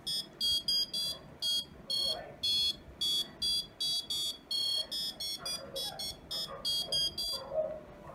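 An electronic buzzer beeps in a fast irregular pattern of short, shrill high-pitched tones, close and loud, with a dog barking faintly underneath.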